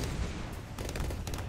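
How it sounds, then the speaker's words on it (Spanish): Repeated cannon blasts from a cannon tower in a tower defense video game, dense and loud, with sharp bursts clustering together over steady game noise. "Cañonazos a saco."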